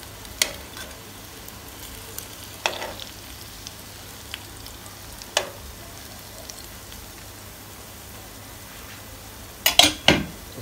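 Potato chapli kebabs frying in ghee over medium heat, a soft steady sizzle with occasional sharp crackles and spatters, quiet and without talk.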